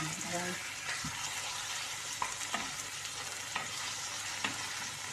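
Chicken pieces fry in a pan, giving a continuous sizzle under repeated stirring scrapes and knocks, close up and moderately loud.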